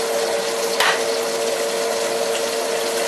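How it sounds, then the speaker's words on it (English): Eggs frying in a scorching hot frying pan give off a steady, dense sizzle throughout, with one brief sharper crackle near the start. "throw the eggs into the frying pan here"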